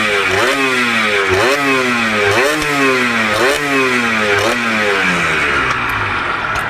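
A stock, factory-original Yamaha TZR motorcycle is revved repeatedly, loud and close, its engine note climbing and dropping in about five quick rhythmic blips with no talking.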